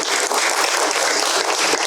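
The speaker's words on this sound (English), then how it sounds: "we can get some applause on the microphone" Audience at a live startup report event applauding, dense steady clapping close and loud throughout the short stretch with no talk.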